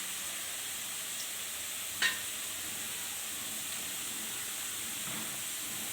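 Tomatoes fry in a pan for chutney, producing a steady close hiss of sizzling with one brief clack near the start, and no voices.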